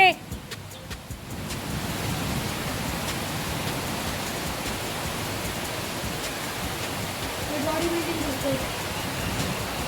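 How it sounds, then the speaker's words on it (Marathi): Heavy unseasonal rain pours down in Thane district, a dense, steady hiss of water that fills the whole scene without a break and swells slightly toward the end. "मस्त असा पाऊस पडतो आणि आम्ही ते वरती थांबलेलो आहे"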